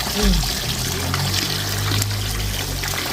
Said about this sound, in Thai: ล้างน้ำอีกรอบนะครับ